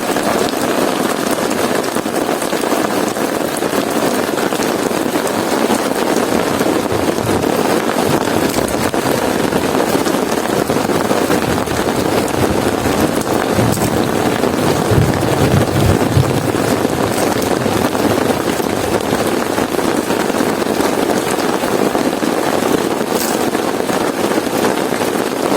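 Heavy rain pours steadily on a campsite shelter during a downpour with fog and possible thunder, a dense, constant wash of close rainfall with wind gusts and no voices.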